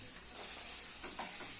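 Steady close sizzling of paratha frying in a pan, a bright continuous hiss with small crackling pops, uninterrupted and fairly soft.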